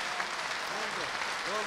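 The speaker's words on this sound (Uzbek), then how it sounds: "Qarsaklar ustozimiz Abduhoshim Ismoilovga sog' bo'lsinlar" A live concert audience claps for their teacher, a brief, dense patter of applause with a voice speaking over it.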